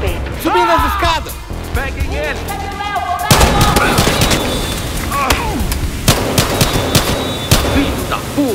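Shotgun blasts and gunfire in the video game Battlefield Hardline, sharp repeated cracks and bursts ringing out over shouted voices and game chatter, loud and close.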